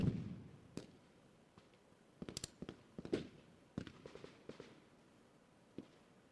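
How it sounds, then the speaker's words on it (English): Artillery fire in the Lock 'n Load Tactical Digital war game, set in Australia, comes as a scattered run of sharp explosive cracks and thuds, some in quick clusters and others isolated, fairly loud against a quiet background. "Can I call artillery? I can call it"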